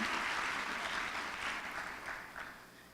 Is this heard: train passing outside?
no